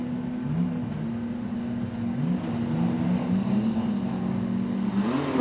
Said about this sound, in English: about to go racing stock cars